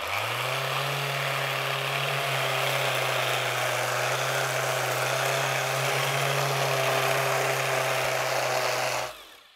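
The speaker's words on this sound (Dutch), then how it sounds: "Schuren kan je natuurlijk met de hand doen, of je neemt gewoon een schuurmachine." An electric sander sanding an aluminium foil ball runs loud and steady with a constant buzzing hum and gritty rasping noise, then winds down abruptly near the end.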